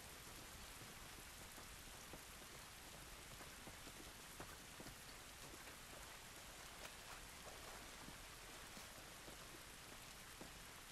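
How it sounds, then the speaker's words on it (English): Steady, even rain falling in The Last of Us Remastered video game, a dense continuous hiss of drops hitting surfaces with no voices over it. "This rain ain't gonna do us any good."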